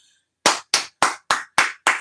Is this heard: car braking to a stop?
no